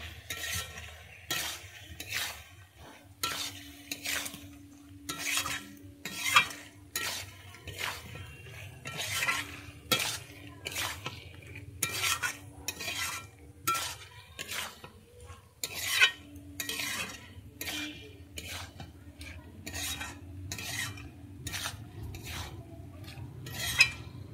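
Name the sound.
stirring and frying potatoes and giant taro in oil in a pan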